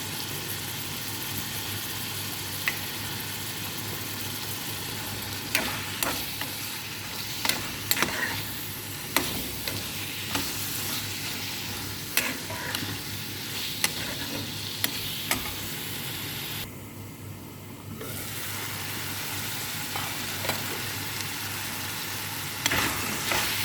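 Chicken mince curry sizzles and fries steadily in a pan after chili is added, with frequent scraping stir strokes and small clanks throughout, close and continuous, no talking.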